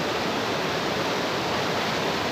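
The small Tukrey Rangbang Khola stream near Sukhiapokhari rushes continuously, a close, steady broadband roar of flowing water with no voices.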